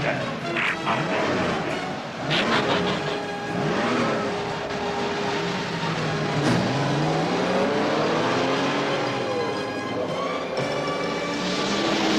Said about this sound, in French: Contact. Moteur en marche.